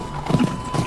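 Horse hooves clip-clopping at The Hague in 1649, with a few soft, close strikes on a steady hum and no talk, as a rider arrives.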